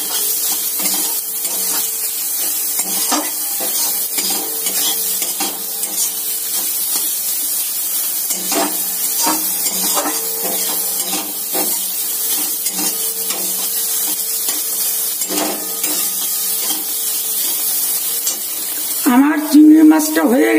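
Shrimp frying in a pan as the water cooks off, a steady loud hiss and sizzle running throughout, with a brief clatter of stirring near the end.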